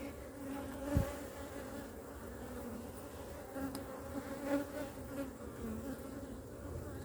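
Honey bees buzz steadily around an open hive full of nectar and drone brood, a dense continuous hum close by with a few louder passes near the microphone.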